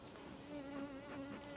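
Honey bees buzz around a small five-frame nuc hive, a steady close drone with individual bees swelling louder as they pass near.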